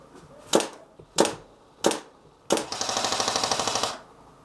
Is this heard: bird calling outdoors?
no